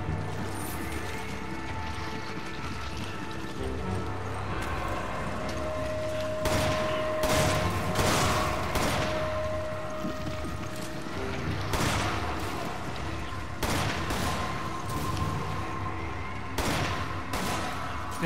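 Gunfire in Resident Evil 5 on Professional mode, with sharp bursts of shots that come in clusters over steady game music and ambience, some bursts landing close together and others spaced out.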